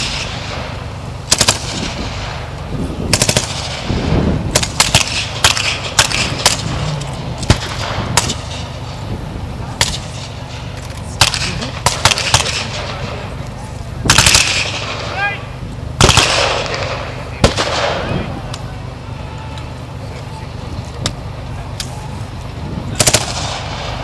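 Blank-fire gunfire crackles through a mock WWII battle reenactment, loud bursts and single shots, some in quick automatic strings, spread irregularly across an outdoor field with distant rumbling between volleys.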